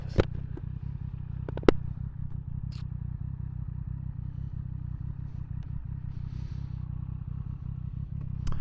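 A 2024 Triumph Street Triple motorcycle pulls away on a cold road. A steady low engine rumble drones throughout, broken by a few sharp clatters near the start. No voices.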